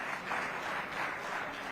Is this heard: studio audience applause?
yes